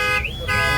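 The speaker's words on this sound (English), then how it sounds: "Alarm went off." Car alarm at a car meet sounding loud and near, a piercing electronic tone sweeping up and down in repeated wails, alone without voices.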